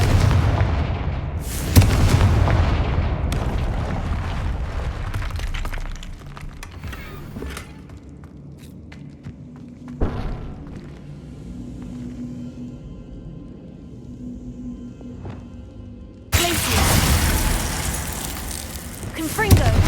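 Booming blasts of the Confringo explosion spell in the game Hogwarts Legacy, several loud bursts with crackling decay and lulls between, mixed with game sounds and a voice.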